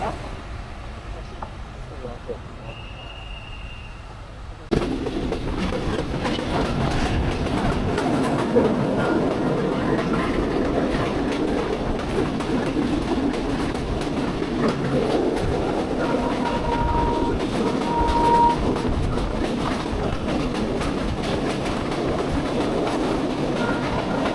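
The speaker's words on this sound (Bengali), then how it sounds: "এখানে একটি ট্রেন থ্রুপাস যাচ্ছে মাত্র চারটি কোচ নিয়ে চলাচল করে সেটি হচ্ছে এটি হচ্ছে রকেট এক্সপ্রেস" The four-coach Rocket Express runs straight through Robdia railway station. After a quieter opening, a loud, sustained rumble kicks in abruptly with rhythmic clickety-clack as the carriages pass close by, and voices are mixed in.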